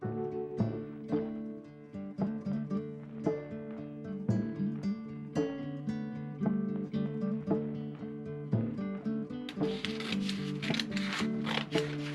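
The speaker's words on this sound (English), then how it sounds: "I fold in half and cut along one side of the lines." Scissors cut through folded fabric for an Italian Renaissance 1490s gamurra dress, a series of short snipping strokes set against steady background music that dominates the mix.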